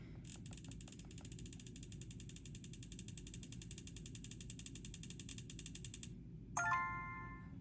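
A spinner wheel ticks rapidly as it spins, the clicks blurring into a steady ratchet-like rattle for several seconds before stopping, then a short chime rings out; the sound is quiet over a low background hum.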